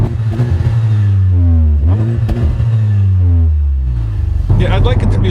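Honda Civic Type R with a center-mounted exhaust tip revs up in rising and falling sweeps, loud and close, with a brief rougher burst near the end; people talk around it.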